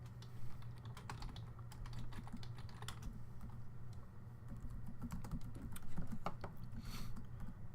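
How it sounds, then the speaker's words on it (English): Rapid, uneven clacking of keys on a computer keyboard, with bursts and short pauses, heard faintly over a low background hum. "he's typing something"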